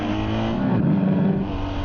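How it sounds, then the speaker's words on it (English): A BMW R1250GS Adventure motorcycle engine revs in first gear as the throttle is opened, a steady, loud, close mechanical drone swelling slightly for under two seconds. "I'm going to put it in first gear. And I'm going to open the throttle."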